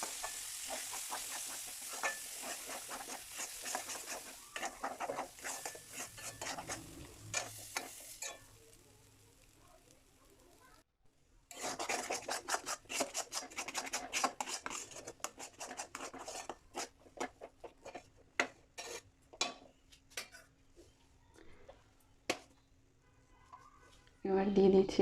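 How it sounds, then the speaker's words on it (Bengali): Ground pea, green chilli and ginger paste being stirred in a pan, intermittent scraping and soft sizzling strokes with a quiet stretch in the middle, someone talking at times over it. "এই পেস্টটা দিয়ে এবার আমি ভালো করে মিশিয়ে নেব"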